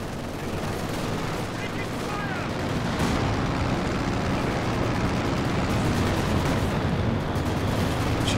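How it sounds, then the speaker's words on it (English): Rockets strike during a Company of Heroes 2 battle, with dense, continuous explosions and gunfire rumbling loudly throughout amid heavy combat noise. "Rockets coming in as well."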